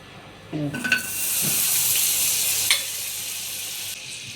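Amul butter drops into a hot pan and sizzles, a close, steady hiss that starts abruptly with a few spits and crackles, holds for several seconds and then fades.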